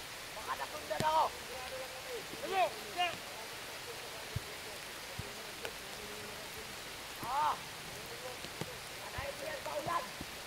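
Rain falls steadily outdoors, a constant hiss of drops with occasional louder splashes, while people talk intermittently in the foreground.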